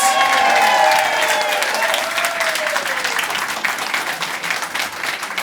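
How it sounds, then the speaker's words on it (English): A live summit audience in Dublin gives the winners a loud, sustained round of applause, dense clapping from many hands that carries through the whole stretch with only slight fading. "Please, one more round of applause for these winners."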